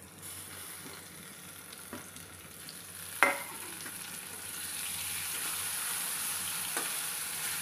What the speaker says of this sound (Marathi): कांदा आणि टोमॅटो तेलामध्ये मंद आचेवरती भाजून